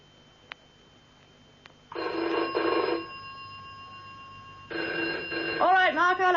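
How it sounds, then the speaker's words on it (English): An old-style telephone bell rings in a flat, two long brittle double rings separated by a pause, fairly close and loud, with a voice starting to speak near the end. "All right, Mark, I'll answer it"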